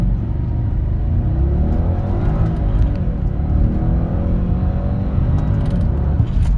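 A 500HP Jaguar engine with an engine knock revs hard and roars continuously, pitch climbing through lightning-fast gear shifts as the car accelerates from first gear, loud and close throughout.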